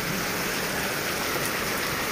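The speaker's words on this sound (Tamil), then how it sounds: "ஸோ நல்ல மழை கொட்டு கொட்டுன்னு கொட்டிக்கிட்டுருக்கு." Heavy rain pouring down near a farm, a steady dense hiss of falling water with constant loudness and no talk.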